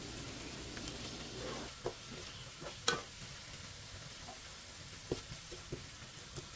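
Chicken feet dimsum ingredients are stirred in a hot pan, a soft continuous sizzle broken by a few scattered scraping clicks of the utensil, fairly quiet and with no talking.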